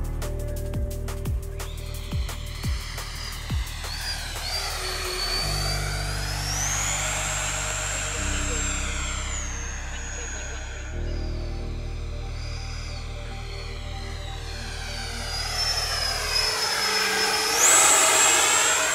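An XFly B-1B Lancer RC jet with twin 70mm electric ducted fans makes a high-alpha fly-by, a loud, sustained whine that rises and falls in pitch as it sweeps past, with no talk.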